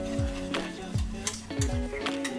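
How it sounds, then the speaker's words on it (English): A spoon stirs a brown sugar dipping sauce in a pan: soft scraping sweeps and a few light clicks against the metal, with a faint sizzle beneath, close and fairly quiet. "So I'm going to give this a good stir."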